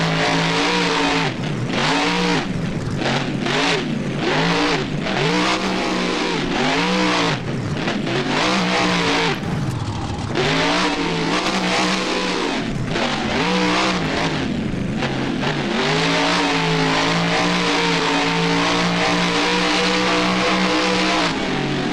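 A monster truck in BeamNG spins donuts in a boneyard freestyle arena, its engine revving loud and continuous with rising and falling pitch sweeps, alone without any talking.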